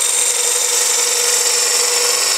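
A gouge cuts into wood being turned, producing a loud, continuous, close shaving hiss that holds steady without breaks or voices.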